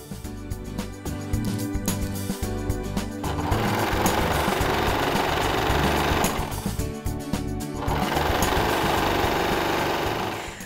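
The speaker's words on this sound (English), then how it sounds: "I'm going to head over to my serger and just stitch all of my seams" A serger stitching fabric seams on a raglan sleeve top, its loud rapid mechanical whir running steadily and close, with a short pause and slowdown partway through before it starts up again.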